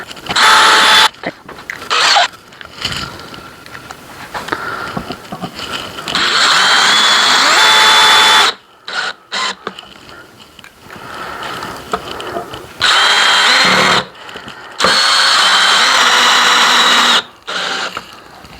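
A power drill drives screws into a wooden birdhouse roof in several loud whirring bursts of a few seconds each, with quieter handling and clatter between them.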